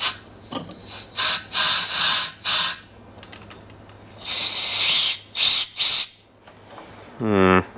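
Compressed air from a hard plastic air nozzle blown into a ZF 5HP24 transmission to actuate its clutches on a BMW X5: repeated loud, close bursts of hissing air in short blasts, ending with a brief whining tone.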